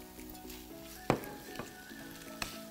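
Tuna frying in sautéed tomato paste makes a soft sizzle with a faint background hum, broken by a few sharp clicks of a utensil against the pan; no voice is heard.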